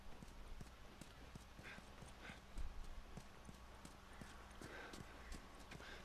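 Horse hooves clip-clop in a steady walking rhythm in The Last of Us Remastered, a faint, even patter over a low droning game ambience.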